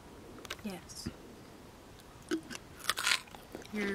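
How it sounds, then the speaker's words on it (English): A person outdoors on a Labor Day road trip bites into and chews a freshly washed nectarine, giving several close, crisp crunches and wet chewing sounds spread over a few seconds, with faint soft voices in the background. "You're munching on a nectarine."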